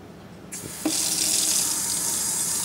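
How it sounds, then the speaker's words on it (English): A kitchen tap turns on with a click and settles into a steady, close rush of running water into a sink as potatoes are washed under it, with no talking. "I'm going to wash them real quick."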